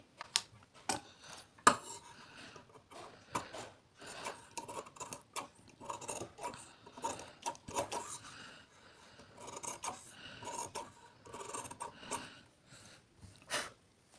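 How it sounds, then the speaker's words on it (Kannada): Scissors cut through extra cloth for a dori cap in a series of quiet, irregular snips and rasping rubs, close by, with no one talking. "ಈಗ ನಾನು ಈ ಎಕ್ಸ್ಟ್ರಾ ಬಟ್ಟೆನ ಕಟ್ ಮಾಡ್ಕೊತೀನಿ"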